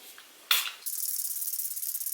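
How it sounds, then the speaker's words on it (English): Catrice Prime and Fine setting spray misted onto a face: a brief, close burst of fine aerosol hiss, then a steady airy mist that keeps going, with no talking. "I'm just gonna spray my face down really quickly. This is the Catrice Prime and Fine."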